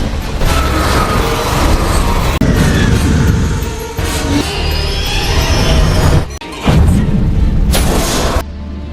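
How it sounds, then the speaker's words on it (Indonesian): A plane crashes into the open sea in a Jason Statham action film, loud continuous roaring rumble with heavy booms and crashing impacts, a brief dropout, then another violent surge. "pesawat itu mengalami kecelakaan hebat dengan terjatuh ke dalam lautan lepas"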